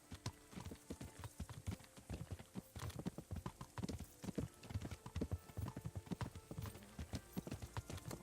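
Hooves clip-clop steadily as a horse is ridden in the medieval video game Kingdom Come: Deliverance, an even rhythmic trot of close, crisp footfalls with no talk over it.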